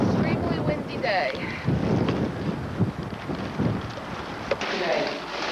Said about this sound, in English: Extremely windy day.